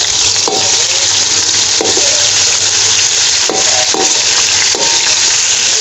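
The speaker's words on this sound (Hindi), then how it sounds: "ये थोड़ा सा हमने हरी मिर्च का पेस्ट इसमें ऐड करेंगे" Green chili paste sizzling as it is stirred into chicken frying in a pan, a loud steady hiss with a hard scrape of the spoon against the pan every second or so.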